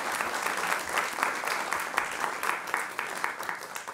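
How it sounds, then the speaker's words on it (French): An audience gives sustained, even applause at a sports talk, clapping steady and moderately distant for a few seconds, with faint voices mixed in. "je vous demande de les applaudir encore une fois"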